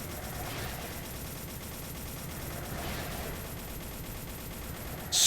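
Continuous dense enemy gunfire in the video game MASS Builder, a steady rattling fusillade that stays at an even loudness throughout with no pauses.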